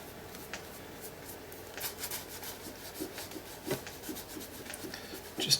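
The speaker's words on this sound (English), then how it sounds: "And then I'm going to just rub it in." Soft, faint rubbing of white medium being worked into an art journal page, quiet scratchy strokes in irregular bursts, close-up with no talking.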